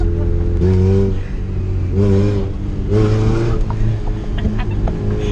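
A Honda car engine revs hard several times in loud, close rising surges with steady idle between, a car that has an oil pressure issue.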